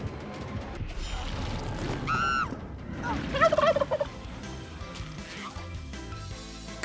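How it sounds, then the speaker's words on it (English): Turkeys gobbling in a couple of quick, warbling bursts over a low background murmur, the second call louder and more broken up than the first. "this Thanksgiving season, the turkeys fight back."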